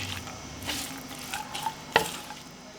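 Leafy greens are stirred in a pan for sambar, giving a quiet, soft sizzle with light scraping and shuffling, then a single sharp clink of the utensil near the end.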